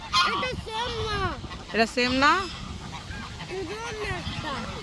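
A flock of geese in Norway honks loudly and repeatedly in close, overlapping bursts, with a person speaking briefly between the calls.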